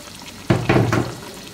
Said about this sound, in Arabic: نضيف علب اللوبة هنا.